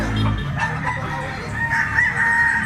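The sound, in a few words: Lemon 84 bloodline gamecock rooster crowing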